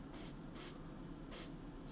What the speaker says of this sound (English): Always try and spray front onto the salt.